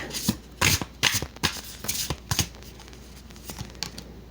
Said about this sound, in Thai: เดี๋ยวเรามาเปิดไพ่ไปพร้อมๆกันเนาะ